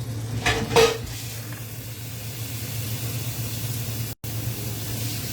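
Pork ribs searing in a pan on a stove top, a steady low sizzle with a brief clatter of utensils against the pan near the start and a short dropout later.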